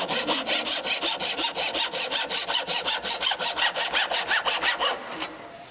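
A hand saw cutting wood in fast, even back-and-forth strokes, loud and close, stopping abruptly near the end.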